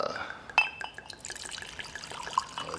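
A drink is poured neat, without ice, into a glass, giving a close trickle of liquid with a small clink near the start and faint splashes that carry on throughout.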